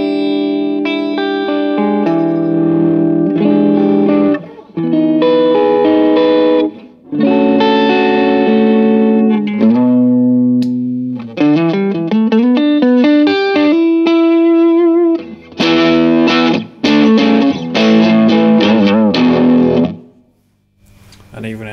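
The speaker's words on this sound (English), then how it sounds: "cleans up reasonably well, particularly for a distortion pedal" An electric guitar played through a distortion pedal on a MIDI pedalboard, loud and up close, with sustained driven chords and single notes ringing out in phrases separated by brief silences.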